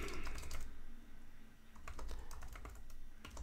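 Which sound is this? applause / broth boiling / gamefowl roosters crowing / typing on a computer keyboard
typing on a computer keyboard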